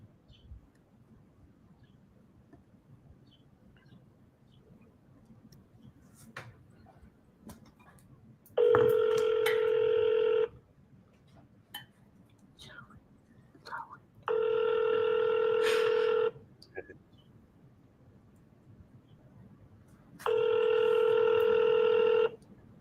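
A phone call goes out while a man waits on the line: three long, loud ringback tones sound at even intervals, each about two seconds long, separated by quiet gaps with faint background noise.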